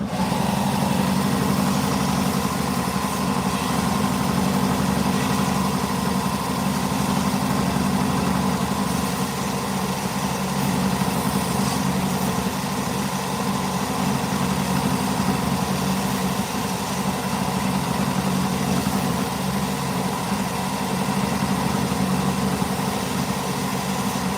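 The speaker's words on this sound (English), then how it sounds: "If you don't have a bandsaw at home, you can use sandpaper as well, but a bandsaw is nice and fast." A bandsaw runs steadily, sanding the edge of a wooden puppet part round; a constant loud motor drone and whirring belt hold for the whole stretch with no talk over it.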